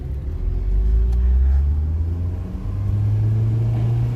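A Fiat X1/9 engine hums low and close while driving, its pitch climbing steadily as the revs build, dropping briefly around a gear change, then rising again.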